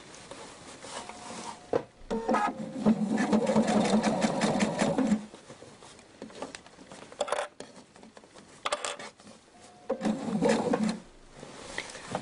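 Sewing machine stitching a cushion's opening closed, running in a few steady whirring bursts with short pauses and light handling clatter between them, close and fairly loud.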